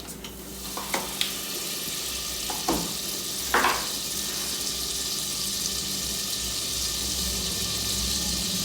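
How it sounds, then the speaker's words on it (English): A chunk of butter melting in a medium to large pan on a medium-heat hob, with a steady close sizzle and a few clinks and scrapes early on, then an even frying hiss, no talk. "I've put a medium to large pan on a medium heat hob and I'm going to add a chunk of butter to melt"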